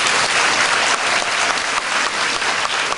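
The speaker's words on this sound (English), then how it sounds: "Please, give them a round of applause." An audience at a magic performance applauds, with loud, even clapping from many hands filling the whole stretch without a break.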